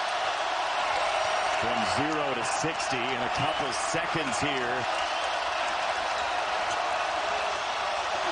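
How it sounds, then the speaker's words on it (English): Home crowd roaring at a basketball game in Carver Hawkeye Arena during Iowa vs Illinois, a loud, steady wash of cheering that fills the arena throughout, with a commentator talking over it. "Now the home crowd involved."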